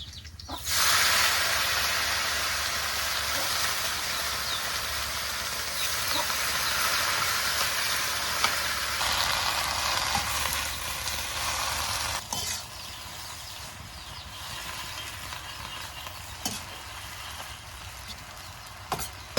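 Jute leaf greens dropped into hot oil with cumin in a pan, giving a loud continuous sizzle and hiss that eases off partway through, with a few scraping stirs.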